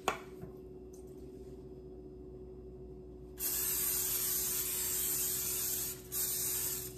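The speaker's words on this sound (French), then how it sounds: "Mwen itilize spray sa." Cooking spray can releasing a steady hiss while a breakfast is made in a home kitchen; a faint quiet start gives way to about three seconds of continuous close spraying, a short pause, then another burst.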